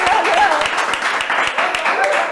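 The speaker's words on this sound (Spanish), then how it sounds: "Aplauso, por favor." Studio audience applauding on a Colombian television talk show set, a dense steady wash of clapping filling the whole moment, with voices murmuring faintly underneath.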